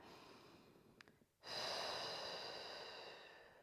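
A single slow, deep breath taken during a dumbbell strength workout: a short sharp intake, a pause, then a long airy exhale that fades gradually, close and quiet with no talking.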